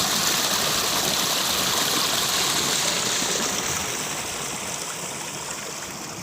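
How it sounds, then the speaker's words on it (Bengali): Irrigation water from a shallow pump gushing out through a cracked pipe in a field, a steady loud rushing flow close by that eases slightly toward the end. "পাইপের মধ্যে ফাঁকা ফাঁকা দিয়ে জল বেরিয়ে যাচ্ছে সব"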